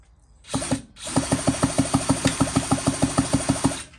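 A power drill spins an old, rusty, dead chainsaw engine over. A short burst comes first, then a steady rhythmic chugging of the turning engine at a regular beat, loud and close.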